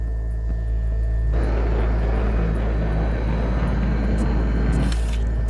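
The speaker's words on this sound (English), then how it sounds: "Combat drones. Defense systems active." Combat drones in Cyberpunk 2077 flying in with a loud, droning engine roar that swells suddenly after a low hum and holds steady, ending with a brief sharper whoosh.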